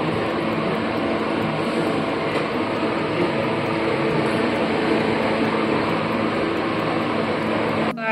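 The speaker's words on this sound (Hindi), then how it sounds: "सो इसका ये है एसी ठंडक वाला, इसको साफ़ करना है अभी।" A split air conditioner that has just been switched on runs with a steady whirring hum and airflow that stays level throughout, with a brief click near the end.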